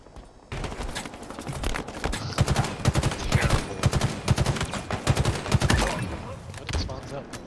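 Halo Infinite beta multiplayer gunfire: rapid bursts of automatic weapon shots crack repeatedly through most of the stretch, loud and close, with busy game effects and a voice talking underneath at times.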